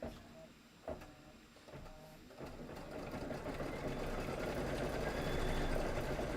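A sewing machine quilts a fabric table topper, starting with a few soft clunks and handling noises before settling into a steady, building mechanical whir, fairly quiet and close.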